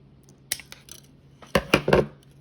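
Scissors snipping through four thin sensor wires during assembly, a few sharp close clicks, one early snip then a quick cluster of three cuts near the end, no talking.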